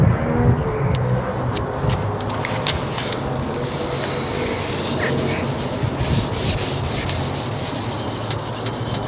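A foggy, hazed car headlight lens is rubbed and polished by hand, giving a close, continuous scrubbing and friction sound that runs steadily throughout, with no talking.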